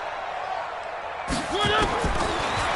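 A stadium crowd in a PS4 football video game swells suddenly into a loud, sustained roar ahead of a big third down.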